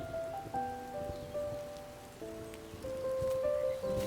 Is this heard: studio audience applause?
no